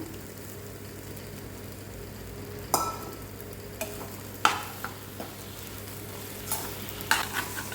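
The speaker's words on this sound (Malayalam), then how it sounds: "മടി പിടിക്കാതെ ഇളക്കി കൊടുക്കണം" Leftover puttu is stirred in a pan over a low sizzle, with scattered sharp scrapes and clinks of the utensil against the pan at irregular intervals, close and alone.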